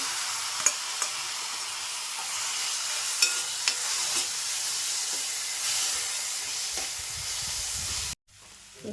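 Tomatoes hit softened onions in a pan, setting off a steady broadband sizzle with a few sharp spatter pops and stirring scrapes, then cutting out abruptly near the end before a faint return.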